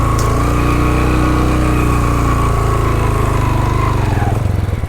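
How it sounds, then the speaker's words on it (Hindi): A motorbike engine labours loudly and steadily up a steep, continuous mountain climb on a rough track in Utror Valley, Kalam, Swat, its note droning close by and alone before stuttering and chugging near the end. "बहुत मुश्किल है कि मेरा बाइक चढ़े"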